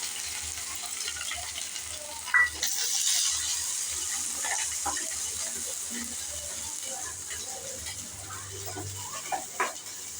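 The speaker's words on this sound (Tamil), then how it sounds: "தாளிப்பு கொடுத்து கொட்டியாச்சுப்பா." Hot tempering is poured into a bottle gourd and moong dal curry, giving a faint steady sizzle and hiss with a few small pops and clinks, no one talking.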